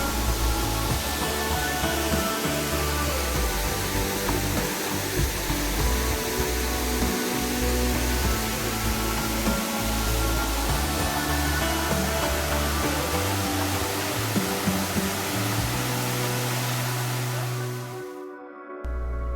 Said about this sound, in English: Here we are down by the small waterfall after we cross the bridge.